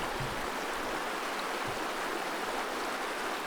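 A creek along the Upper Salmonberry River Trail flows with a steady, even rushing hiss, moderately near and constant throughout.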